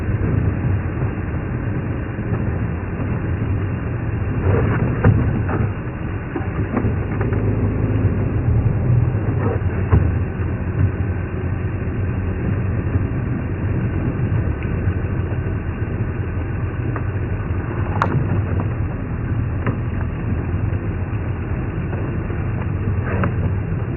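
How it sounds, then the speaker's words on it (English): Safari vehicle engine idling steadily on a smooth road in the Thornybush Nature Reserve, a low continuous rumble that holds even throughout, with a few faint clicks and knocks over it and no talk. "gentle ticking of the engine"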